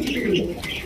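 A pair of colored rasgolla pigeons gives a short, close, soft coo, a low throaty burble over a quiet room.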